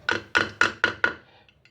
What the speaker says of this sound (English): just hammer this screw a bit in